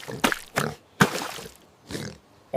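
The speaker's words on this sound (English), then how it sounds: "It's the pig." A cartoon-style farm pig oinking in a few short grunting bursts, fairly close and clear, with brief pauses between them and no talk over the sounds.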